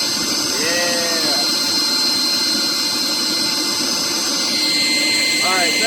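Forced-air propane forge burner roaring outdoors in a headwind, a loud continuous hissing roar with a steady blower whine that fills the whole clip, while a few brief squeaky sounds rise and fall over it.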